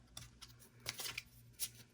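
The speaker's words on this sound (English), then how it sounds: "So let's pull some other oracle cards and see here." Oracle cards are shuffled by hand in a few quiet, quick riffling bursts with brief pauses between them.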